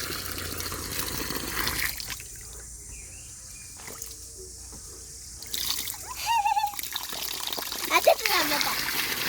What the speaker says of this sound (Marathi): हे बघा पाणी सोडलंय मी.